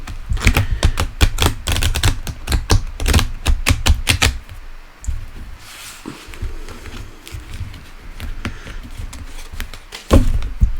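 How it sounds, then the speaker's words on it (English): A deck of tarot cards fan shuffled by hand, a loud rapid series of crisp snapping flicks, then a quieter stretch of softer rustling and sliding with a final sharp snap, close and heard without talk. "I'm going to fan shuffle"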